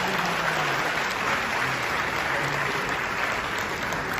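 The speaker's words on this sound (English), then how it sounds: "Keep clapping. Come on. Keep clapping." A crowd at an anniversary youth conference in Ghana claps steadily and densely without pause, a thick, even wash of applause from start to finish.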